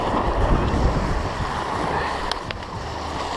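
Ocean waves wash and break against a jetty at Brigantine, New Jersey, a steady broad surf roar with wind noise buffeting the microphone throughout.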